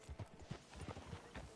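Horse hooves clip-clop along a town street in Red Dead Redemption 2, a quiet, steady rhythm of soft thuds at moderate distance with no voices.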